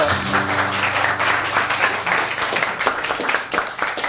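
A crowd claps for a band at a televised band contest, the applause steady and full throughout while a low musical tone lingers underneath at the start.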